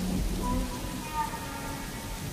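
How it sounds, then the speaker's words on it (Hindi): Steady rain falls in a dense, even hiss with a soft patter of drops, continuous and fairly close throughout, with no voices. "बारिश आ गई"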